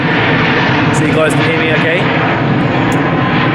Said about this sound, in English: Sorry, I do apologise for the plane.